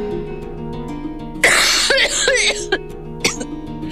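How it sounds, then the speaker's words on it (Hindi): A woman coughs in a short burst of several harsh, close coughs indoors, with a softer cough following, over a quiet background of low sustained music. "खांसा बंद करो प्लीज"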